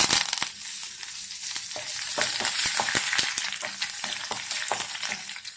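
A tempering of mustard seeds, fenugreek, dried chilies and curry leaves fries in hot coconut oil, giving a loud, close, crackling sizzle dotted with many sharp popping clicks at an irregular pace, and no voices.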